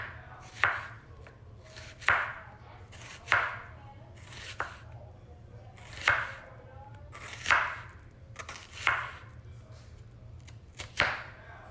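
A knife chops through an onion on a cutting board in slow, evenly spaced single cuts, about eight crisp strokes with pauses between them, fairly close and alone.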